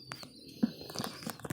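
Breeding pigeons feed their chicks close by, making a quick run of soft chirps, low coos and wing flutters in short, irregular bursts.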